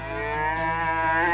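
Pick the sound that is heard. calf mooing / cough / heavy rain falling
calf mooing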